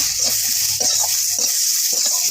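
A spatula scrapes and pushes chopped green tomatoes with salt and turmeric around a hot pan, several distinct stirring strokes over a constant close sizzle; nobody talks.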